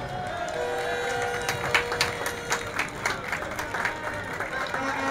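Spectators at a Fiestas Patrias parade applaud, scattered bursts of clapping and cheering rising and falling across the stretch under a steady crowd murmur.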